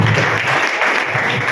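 A crowd applauds loudly at a school's annual gathering, with dense, continuous clapping filling the whole short stretch.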